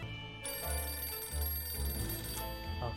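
A telephone rings inside the video game 60 Seconds Reatomized, a repeated electronic bell tone in several bursts over low game music, with no one speaking.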